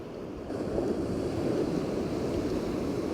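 Ocean waves wash steadily onto a beach, a soft continuous surf rush with a gentle swell, no voices.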